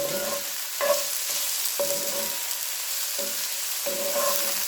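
Chicken fried rice with peppers being stirred in a hot pan, a steady sizzle with repeated scraping strokes of the utensil, close and fairly loud, no talking.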